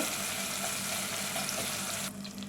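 Onion and green chili frying in hot oil give a steady, dense sizzle that holds evenly, then eases somewhat near the end, close and continuous with no talking.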